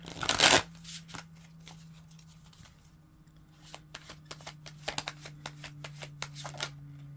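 Tarot cards shuffled in a quick riffle-like burst, then handled and flipped in a run of crisp, separate snaps and slaps over a low steady hum, close and fairly quiet.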